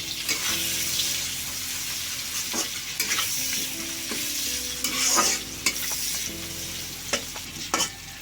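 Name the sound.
chopped tomatoes frying and being stirred for dhania chicken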